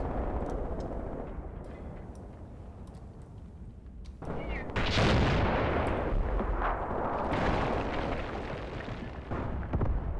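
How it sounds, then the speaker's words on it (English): An artillery strike lands in a forest in the war game Graviteam Tactics Mius, heard as steady rumbling bombardment with sharp cracks. Heavy blasts swell louder halfway through, and a voice talks over part of it. "Another artillery strike coming down here in the forest"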